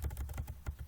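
Quick run of keystrokes on a computer keyboard, several soft clicky taps in uneven rhythm, close and quiet with no voice.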